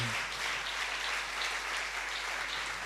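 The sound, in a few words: congregation applauding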